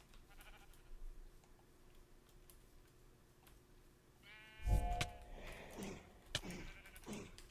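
Sheep in the Minecraft video game bleat in a few short, clear bursts that follow quiet ticking, with faint game ambience underneath.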